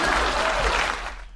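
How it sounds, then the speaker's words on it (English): Audience applause at a political speech, a brief loud burst of many people clapping that tapers off quickly. "Please clap."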